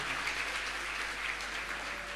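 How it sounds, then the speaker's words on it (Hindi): Audience at a religious ceremony applauding in praise, a sustained, even patter of many clapping hands heard from some distance over a low steady hum. "ताली बजा लो फिर पहले तारीफ में।"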